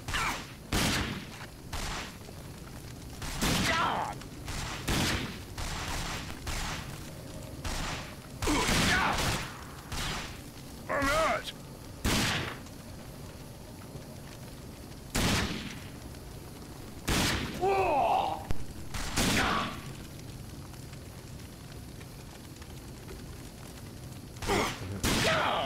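Gunfire in the shooter game RAGE, a long run of loud, sharp shots in irregular bursts and single cracks, with brief voices and grunts in between.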